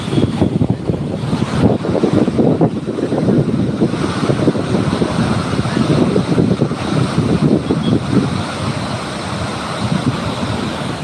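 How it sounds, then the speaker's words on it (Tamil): Water rushes loudly through the ancient Kallanai dam, a steady broadband roar with gusty wind buffeting the microphone throughout. "சீறி வருது பாருங்கள் தண்ணி."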